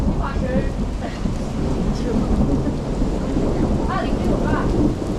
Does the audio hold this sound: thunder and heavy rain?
yes